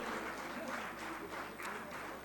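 An audience at the inauguration ceremony of DD Himachal breaks into sustained, dense applause that fills the hall for a couple of seconds at moderate loudness.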